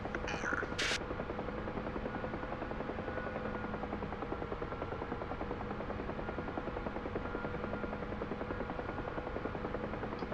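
A Huey helicopter in a video game flies over trees at close to 100 knots, its rotor thumping in a steady dense drone throughout, with a brief faint chirp near the start and no talk.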